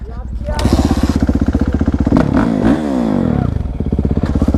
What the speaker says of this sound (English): All right, first time ever on a dirt bike.